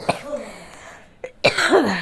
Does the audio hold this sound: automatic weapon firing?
no